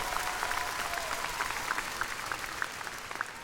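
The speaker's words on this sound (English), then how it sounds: "if we could give them a round of applause" Audience applause for the orchestra at a 2019 undergraduate commencement ceremony, a steady wash of clapping from a large crowd that holds at an even level throughout, with no voices standing out.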